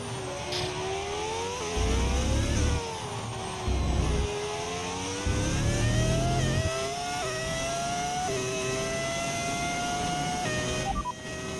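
V10 engine audio mod in the F1 25 racing game, a high-pitched engine screaming through rising revs and gear shifts, loud and continuous.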